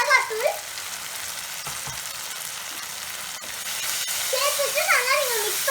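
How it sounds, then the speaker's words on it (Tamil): Chili powder masala sizzles in hot oil as it is sautéed and stirred in a pan, a steady frying hiss with a voice talking briefly at the start and end. "பச்சை வாசனை போற வரைக்கும் நல்லா வதக்கிக்கோங்க."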